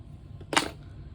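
Scissors snipping a crochet yarn tail, a single sharp close click-snip standing out briefly against a quiet background.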